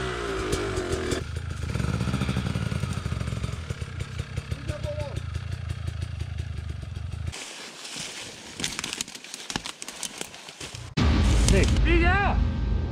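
Enduro riding on a KTM EXC 300 two-stroke off-road, with a loud, continuous motorcycle engine revving and labouring close by, a brief drop in engine noise partway through, then a loud roar returning, with voices talking over it.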